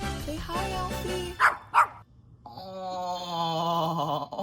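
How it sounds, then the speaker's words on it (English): A rescue puppy barks twice in quick sharp yips, then lets out a long, high whining moan, with a voice speaking around the barks. "This is my new baby puppy."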